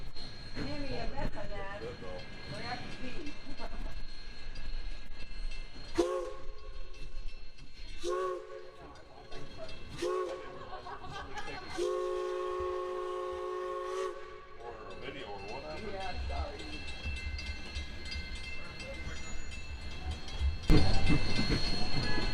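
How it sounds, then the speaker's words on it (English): Steam locomotive 110 runs around its train and couples up, with chuffing, clanking and several whistle or horn blasts, and voices talking nearby. "110 runs around to the front of the train and couples up."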